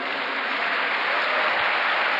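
Congregation at a Sunday church service applauding, a continuous wash of clapping heard at a distance through a narrow, muffled recording with no voices over it.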